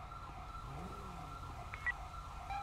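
Ambulance siren from a video game roleplay, wailing tones held steady over low engine-like rumble, fairly distant and moderate in level, with brief chirps near the end.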